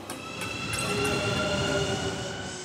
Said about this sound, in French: 5 trains arrivent dans la station.